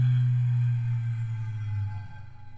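A guitar string fitted with a bead and a small split ring behind it, giving a sustained, buzzing, low droning tone that slowly wavers and fades, close and alone.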